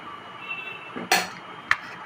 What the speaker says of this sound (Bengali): এভাবে একটা প্লেট নেবেন এভাবে রাখবেন